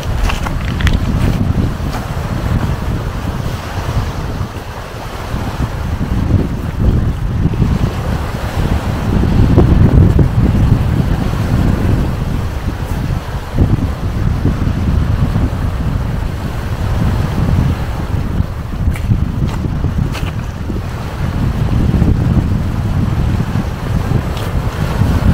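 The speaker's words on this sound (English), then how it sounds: "Ooh, how the waves go." Sea waves and gusting wind at Puttgarden beach in Germany form a loud, continuous wash of surf with heavy wind buffeting the microphone and swelling surges.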